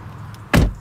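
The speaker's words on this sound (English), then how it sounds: "We're gonna close the door." Land Rover Defender 110 P400 door, 2020 model on the D7X chassis, shut from inside the cabin with one loud, solid, close thunk and a short dull decay.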